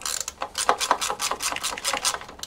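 A hand ratchet loosens a bolt on a Tesla Plaid during a suspension install, giving a rapid, even run of close metallic clicks that repeats for a couple of seconds with no talking.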